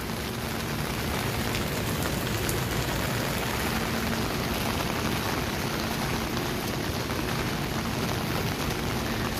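Steady rain pours over a riverside esplanade along the Pasig River, a dense, even hiss of drops hitting the walkway that stays loud and unbroken throughout, with no voices.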